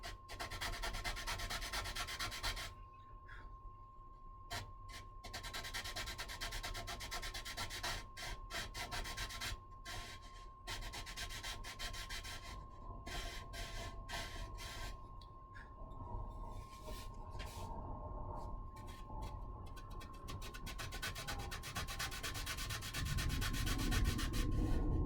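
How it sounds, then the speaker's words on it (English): Wooden hinge pockets being sanded by hand, a steady rough scratching that runs continuously for about twenty-five seconds, close and fairly loud, with brief pauses and a low hum underneath. "sand out the hinge pockets"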